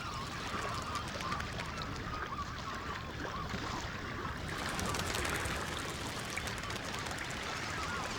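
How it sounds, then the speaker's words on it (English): Red-billed whistling ducks call in a dense, continuous chorus over a swamp at dawn, with constant fluttering wing beats blended in. The overlapping calls and wing noise stay steady and fairly loud throughout, and no voices are heard. "great flocks of red-billed whistling ducks whose wing beats sound out over the swamps every day at dawn"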